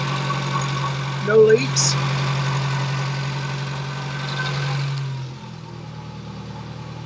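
A Porsche 924 Turbo engine idles steadily just after a cold start, a low, even hum that drops in pitch near the end, with a brief voice speaking early on.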